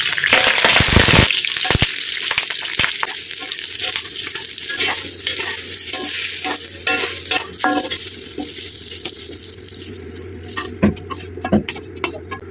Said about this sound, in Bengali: অল্প করে সর্ষের তেল দিয়ে এবার বেগুনটা ভেজে তুলে নিই